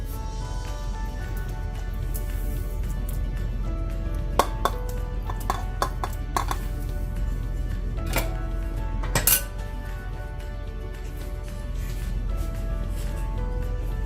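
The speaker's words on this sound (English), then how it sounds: "just give the pot a quick shake so all of them settle down below the curry" A pot of meatball curry shaken on the stove, metal pot scraping and clinking in scattered bursts over steady kitchen background noise, with a few sharp knocks near the middle.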